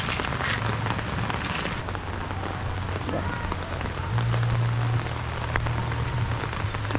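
Rain from a super typhoon falls steadily on nearby surfaces, a constant patter with a low droning hum beneath it.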